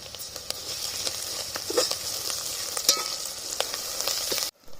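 Onions and ginger sizzle steadily in oil in a pan with occasional crackles and pops, the frying continuous until it cuts off abruptly at the end.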